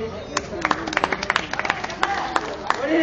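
Audience applause breaks out after a song performance, with scattered sharp hand claps over crowd murmur, and voices can be heard among the clapping.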